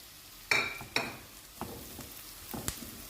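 Chopped green pepper frying in butter and oil, stirred in a pan: a soft steady sizzle with a few sharp utensil clinks and scrapes, close and fairly quiet, no talking.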